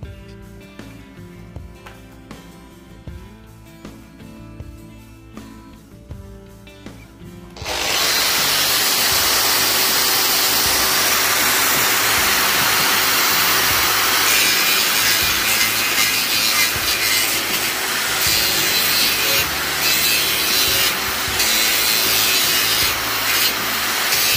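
A power tool fitted with a coarse-grit Bosch X-Lock ceramic abrasive disc grinding into wood, switching on after several quiet seconds and then roaring as a loud, steady, close-up abrasive whine with rough scraping for about seventeen seconds.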